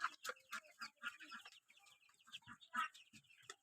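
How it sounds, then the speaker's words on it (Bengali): Egyptian Fayoumi hens on a farm cluck in short, uneven bursts, close and fairly loud, with brief pauses between calls and no talking. "আর এটি ফাউমি, মিশরি ফাউমি।"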